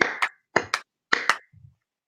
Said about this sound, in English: Let's do claps.